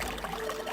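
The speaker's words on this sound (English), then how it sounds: "Running the water." Water running from a faucet in the video game 999, a steady, soft pouring stream heard alone at low volume for a short moment.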